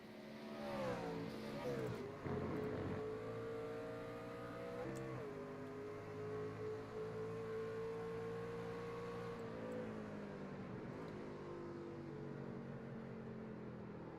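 Several race trucks in an ORRL Sunday night truck doubleheader race drive around the track in a close pack, their engines droning and shifting pitch continuously as they pass, with a steady loud roar throughout and no talk.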